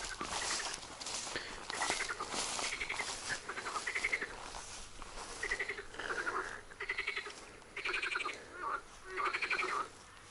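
Frogs call loudly from a nearby pond, with overlapping bursts of rasping croaks that pulse in irregular clusters and build toward the end, heard alone without talk.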